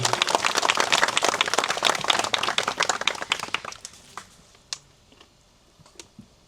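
Mourners at the second-anniversary memorial ceremony for Kim Tae-wan applaud in a dense burst of clapping that thins to a few scattered claps and fades out.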